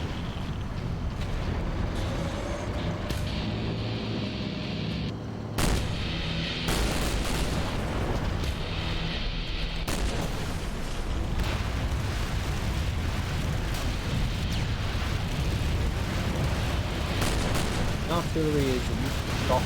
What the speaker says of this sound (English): Artillery is softening up